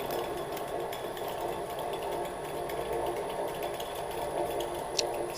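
An induction motor driven by a VVVF drive runs at steady speed at 100 volts, a constant faint electrical hum and whine with no change in pitch, heard alone.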